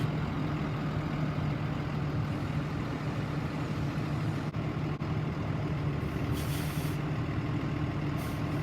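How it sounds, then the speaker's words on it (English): Steady low engine rumble of a bus rolling slowly into a garage inspection bay over gravel and idling, with a brief hiss of air brakes partway through. "the bus approaching the inspection bay is pulled up to the gravel"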